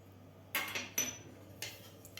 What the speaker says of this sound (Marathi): आता आपल्याला हे व्यवस्थित मिक्स करून घ्यायचं आहे